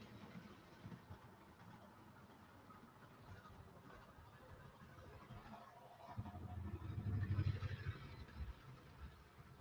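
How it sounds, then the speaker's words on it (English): A Bachmann Class 158 model train power car running while pulling a stripped-down dead power car, a low motor whir and rumble that swells louder near the end, close by, with no talking. "So this is my power car pulling the dead stripped down power car."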